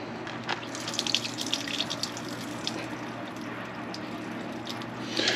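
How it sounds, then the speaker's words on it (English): Water trickles and splashes steadily out through a drilled, hole-covered rock tumbler lid as petrified wood rocks are drained, a continuous close wet pour with brief drips and a louder gush near the end. "dump the water out."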